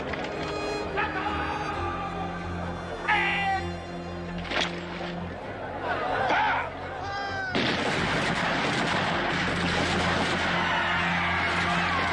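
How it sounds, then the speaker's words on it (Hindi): Soldiers fire on a crowd at the Jallianwala Bagh massacre in this sound effect: dense, continuous gunfire and booming shots under dramatic music, loud and close, with cries mixed in. "चारों तरफ गोलियां चल रही थी"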